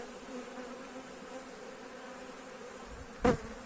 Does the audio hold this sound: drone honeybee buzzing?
yes